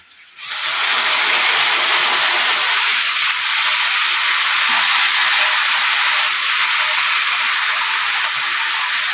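Chopped cabbage hits a hot pan and releases a loud, steady broadband steam hiss that starts abruptly and holds almost unchanged for several seconds, with no voices over it.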